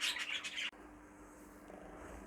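Small caged birds, young stock being ringed, chirp in quick bright bursts that stop abruptly, leaving a quiet room hum.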